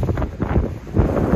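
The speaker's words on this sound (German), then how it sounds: "Ja, hier steht der Wind drauf." Strong wind buffets the microphone at Santa Ponça harbour on Mallorca, a steady low rumbling roar with gusty swells throughout, loud and close, with no voices.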